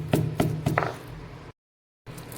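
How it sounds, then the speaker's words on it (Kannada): Roasted gram, dry coconut and cumin pounded in a mortar give three close, sharp thuds in steady rhythm, then quieter grinding, a brief silence and more pounding. "ಇದಕ್ಕೆ ಒಂದು 1/4 ಬಟ್ಲು ಒಣ ಕೊಬ್ಬರಿ, ಒಂದು ಸ್ವಲ್ಪ ಜೀರಿಗೆ ಹಾಕಿ ಚೆನ್ನಾಗಿ ಕುಟ್ಕೊಂಡ್ಬಿಡ್ತೀನಿ"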